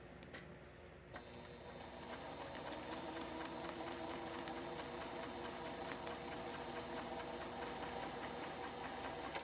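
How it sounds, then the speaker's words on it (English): A sewing machine stitches half-square triangles along printed paper guides, its needle chattering in a rapid, even rhythm after a quiet start, close and steady throughout. "we sew on the dotted line and cut on the solid line"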